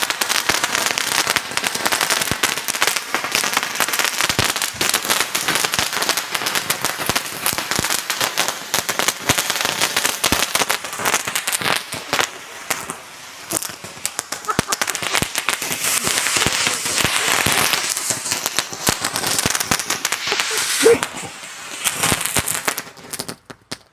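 New kadayam firecrackers from Sivakasi go off outdoors in a dense, continuous barrage of sharp crackling bangs that runs for the whole stretch, loud and close, with people's voices faintly mixed in.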